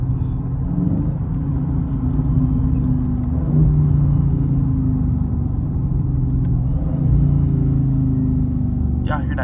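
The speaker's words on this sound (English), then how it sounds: "Y'all hear that downshift?" A Dodge Charger Scat Pack engine rumbles deep and steady from inside the car, with slight swells in the pitch as it downshifts. The sound is continuous and moderately loud, and faint clicks can be heard now and then.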